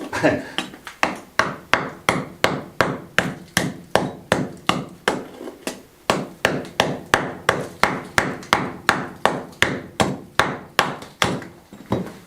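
A hammer chips stone in a steady rhythm during stonework restoration of a 150-year-old finca, over twenty sharp close knocks with a brief pause midway.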